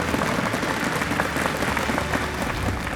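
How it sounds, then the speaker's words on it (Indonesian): A crowd at a competition grand final breaks into loud, continuous applause, thick and evenly sustained throughout. "Kita berikan tepuk tangan dulu semuanya."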